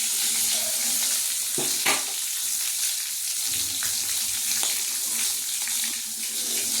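Cumin seeds and bay leaf tempering in hot leftover prawn-frying oil in a kadai, a steady close sizzle with brief spatters and utensil clinks running the whole time.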